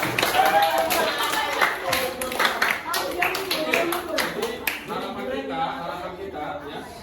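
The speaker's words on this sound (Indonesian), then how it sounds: "Oke, tepuk tangan buat" Students in a classroom lesson clap in a loose burst, with scattered claps running under a voice that talks over most of the stretch.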